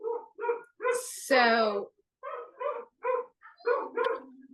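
Two male dogs bark and yip indoors in a rapid, irregular volley of sharp barks, with one drawn-out yowl near the start. The barking is close and fairly loud, and a person speaks briefly under it.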